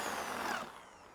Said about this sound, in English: we are just using another drill bit, but we're gonna make the hole a little bit bigger on the hole that we made